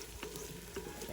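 Mushrooms, onions and garlic frying in oil and butter for a creamy porcini pasta sauce, giving a steady close sizzle with a few soft stirring scrapes throughout, no talking.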